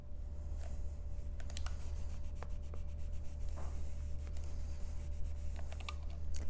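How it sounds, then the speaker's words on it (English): Scissors trim a length of ribbon close up, giving a series of short crisp snips and rustles over a low steady hum, with no talking. "I'll just trim this down so it's the right width"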